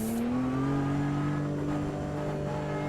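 Porsche engine in Automobilista 2 hums steadily at sustained revs, its strong harmonic tone rising slightly then holding, loud and close throughout with no talking.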